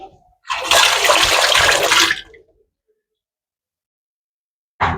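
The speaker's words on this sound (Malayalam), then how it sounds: "കൈ കഴുകട്ടെ" Running tap water splashing over hands for about two seconds, loud and close, then silence before a short burst of water at the very end.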